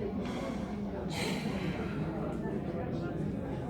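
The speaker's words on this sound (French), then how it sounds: "On inspire." A person draws in one deep, audible breath through the nose, a short rushing inhale in a quiet room.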